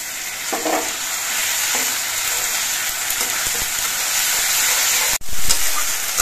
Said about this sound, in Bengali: এবার আমি যে মশলাটা পেস্ট করে নিয়েছিলাম সেই মশলাগুলো দিয়ে দিচ্ছি।